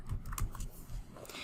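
Quiet keyboard typing into a text box, a short burst of soft, uneven key clicks heard up close and alone.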